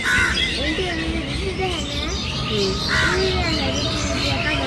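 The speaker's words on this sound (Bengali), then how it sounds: "পাশে কাক দেখো কতটি" Several crows caw repeatedly nearby outdoors in the early evening, harsh calls overlapping one another while a person talks throughout.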